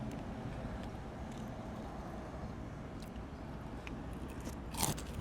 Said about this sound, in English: I know you heard that crunch.